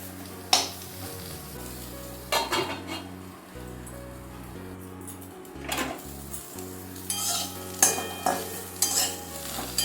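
Sliced bitter gourd fries in a pan with salt, stirred steadily so the spatula scrapes and clinks against the metal while a soft sizzle continues underneath, close and fairly loud, with no talking.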